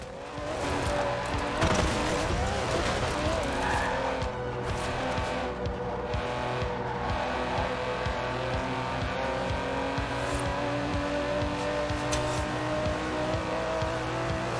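An Aston Martin DB11 with a 5.2-litre twin-turbo V12 in Forza Horizon 4 roars steadily and loudly throughout, with engine revving, brief tire squeal and a continuous racing drone, no talk.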